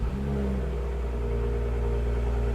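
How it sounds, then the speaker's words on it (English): BMW 335i engine starting after a jump start from a battery booster, a close steady rumble with a brief higher whine at the start settling into an even idle. "we're going to try starting the car."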